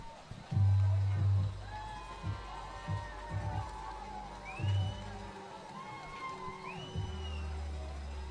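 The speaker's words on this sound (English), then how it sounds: "I can hear the cheering of the crowd going on." Spectators cheering and whooping at a freestyle kayak competition on the Ottawa River, a steady crowd roar with whistles and shouts, plus low bursts of talk over it.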